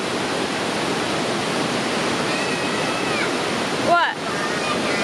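Steady broadband rush of a waterfall close by, constant and loud throughout, with a brief whistle-like chirp near the end; no speech over it.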